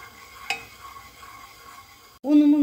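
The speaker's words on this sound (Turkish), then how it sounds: "Unum ile yağımı kavuruyorum." A spoonful of flour roasting in oil for lentil soup gives a soft low sizzle with one clink of a utensil, then a loud tonal sound cuts in abruptly at the end.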